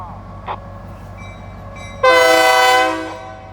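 A push-pull scrap metal train passing a railroad crossing sounds one loud, close horn blast for about a second over a low rumble, after a faint earlier chirp.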